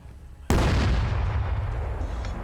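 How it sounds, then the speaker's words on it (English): A Sherman tank cannon fires as artillery in a 1948 Arab-Israeli war video game: one sudden, loud blast followed by a long, rumbling roar that fades slowly, with no talk. "Are they literally using the Sherman as artillery?"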